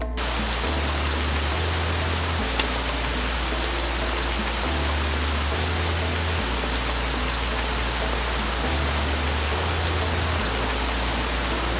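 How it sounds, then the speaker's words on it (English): Steady, dense video-game rainfall on a night city map in GZDoom hisses evenly throughout, a constant wash of droplets with a low rumbling undertone. "so let's make it rain."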